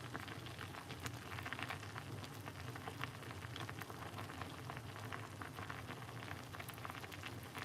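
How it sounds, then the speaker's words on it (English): An herbal tea remedy for cold and flu simmers in a pot, giving a faint, steady bubbling and crackling hiss that continues without a break. "we're just making it simmer down at the moment"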